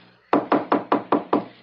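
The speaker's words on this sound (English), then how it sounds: "So, knock." Six firm, evenly spaced knocks strike a house door, close and loud, with no voices over them.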